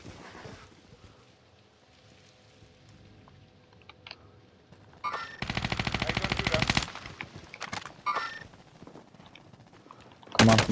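Bursts of automatic gunfire in Warzone Resurgence on the Fortunes Keep map, a loud sustained volley in the middle followed by scattered shots, with quieter game noise around it.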